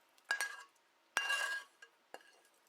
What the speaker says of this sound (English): I'm just going to give this a stir to see.